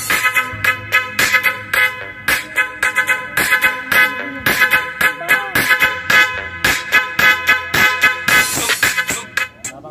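Horn sounds and music blasting loud and punchy through a 2,900-watt dual power amplifier and live speaker setup, with rapid repeated hits for the full stretch and no voices.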